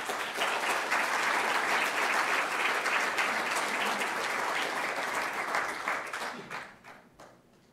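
An audience at an arts and sciences symposium applauds to welcome a speaker, a full, dense round of clapping that holds steady before tapering off and fading out at the end.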